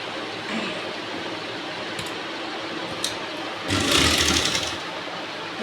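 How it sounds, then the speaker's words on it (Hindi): Sewing machine stitching silky fabric for a Rajputi suit, a steady close whirring hum that swells louder near the end, with no talking. "ये देखो, अब इस पर हम एक सिलाई और लगाएंगे।"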